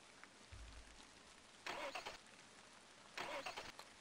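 A car engine in a horror video game cranks twice and fails to catch, each attempt a short grinding burst over quiet background with no one talking.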